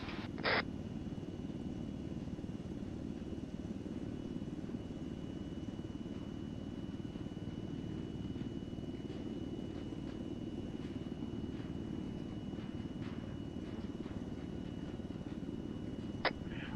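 A small aircraft flying over hills gives a steady, low engine drone that holds unchanged from start to finish, broken only by a couple of brief, sharp clicks.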